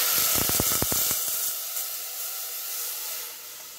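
A curd and gram flour batter for Khandeshi buttermilk kadhi hits a hot tempering on high flame, opening with a few sharp crackling pops, then settling into a loud, steady hiss and sizzle that fades gradually.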